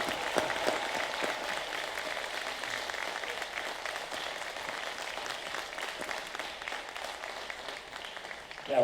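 An audience at a school board meeting applauds in a steady, moderately loud wash of many hands clapping, holding evenly for several seconds.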